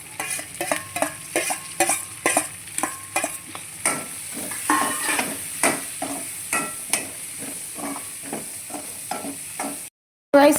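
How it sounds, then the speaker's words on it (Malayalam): Onions and curry leaves fry in a pan with a steady sizzle, punctuated by rhythmic scraping stirs and clinks of a utensil, close and even, with a brief cut to silence near the end. "എന്നിട്ട് സവാളയും വേപ്പിലൊക്കെ കൂടി ഇട്ടണം"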